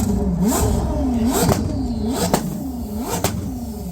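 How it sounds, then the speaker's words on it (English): A Koenigsegg supercar from the CC series revs repeatedly at a showcase, several sharp throttle blips rising and falling in a rhythmic pattern, loud and close with no talk over it. "best sounding Koenigseggs. Can we hear it, William?"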